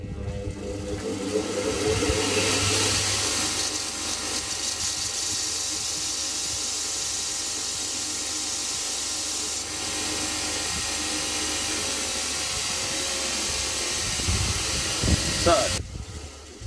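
A center punch spun in a battery drill is ground to a point against a grinder, giving a steady, close abrasive hiss and whine over the drill's motor hum that holds almost unbroken for the whole stretch, ending with a short clatter.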